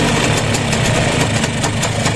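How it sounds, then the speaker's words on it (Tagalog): A restored motorcycle engine idles with a steady mid-pitched drone and a faint, rapid rhythmic knock like stones tapping together, close and loud with no voices. "Pero tahimik ang makina niya, meron lang talagang naumpog."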